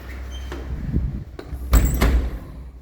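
Back door of a homestay in Jengka, Pahang opening or closing: a couple of sharp knocks followed by a louder clatter and rattle of the door near the end, close by, with no one talking.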